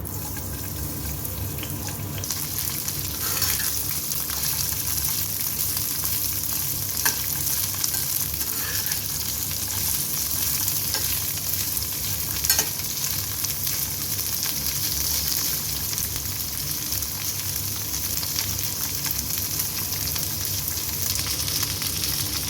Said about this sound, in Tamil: இப்போ ஒரு பேனில் கொஞ்சமாக ஆயில் இதில் இப்போ நம்ம இந்த காலிஃப்ளவர் பீசஸ் ஆட் பண்ணிடலாம்